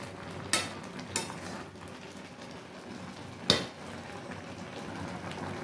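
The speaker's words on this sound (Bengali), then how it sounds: "খুব ধীরে সুস্থে নাড়তে হবে, সাবধানে সাবধানে। এতটা জিনিস নাড়তে গেলেও অসুবিধা হচ্ছে" Whole winter vegetables for a Bengali chorchori are stirred carefully in a cooking pan, giving three sharp scraping clicks over a low, steady frying hiss.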